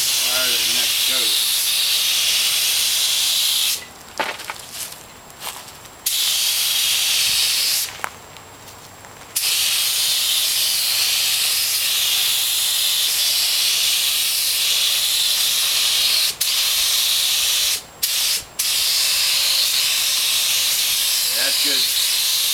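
A spray gun lays down Pettit Black Widow bottom paint with a loud, continuous close hiss, cut by several short pauses where the trigger is released before spraying resumes.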